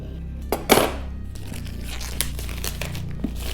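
Crinkling and tearing of product packaging being opened with scissors to unbox Moman H2 Pro intercoms, with a sharp rip near the start followed by scattered rustles and small clicks, close and alone.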